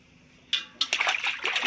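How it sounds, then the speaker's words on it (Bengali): A baby slaps and splashes water in a basin during a bath, a few quick wet splashes building into continuous splashing and sloshing, close by with no talk. "জল পেলে স্পিড বেড়ে যায় হাতের, তাই তো বাবাই?"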